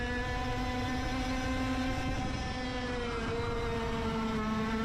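A racing kart's freshly rebuilt engine drones continuously out on a karting track, a steady buzzing tone with slight pitch shifts, moderately loud with no talk over it.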